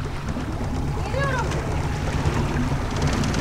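A boat passes on the sea off an island cove in Turkey, its low motor drone heard over wind and water, with a faint passing tone partway through.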